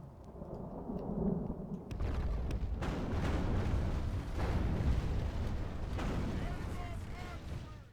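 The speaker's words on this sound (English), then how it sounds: "Oh, it's going to rain, that's not going to bode well for us." Rain and rolling thunder on the battlefield of a Third Age Total War siege, a steady broadband wash of rainfall with deep rumbling thunder swells throughout, with indistinct voices faintly in the background.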